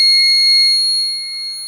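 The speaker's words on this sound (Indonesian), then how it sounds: "ketika buzzer ini tersambung dengan kabel, dia akan hidup" An electronic buzzer wired on a breadboard sounds a loud, steady, piercing continuous tone that stays even throughout, then drops a little in level near the end.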